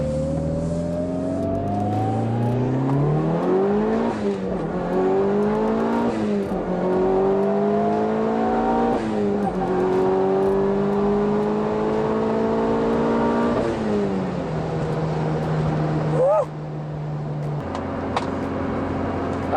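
Mitsubishi Evo 9 engine accelerating hard through several gears, the pitch climbing and dropping at each shift, loud and close from inside the car, then settling to a steady idle-like drone near the end.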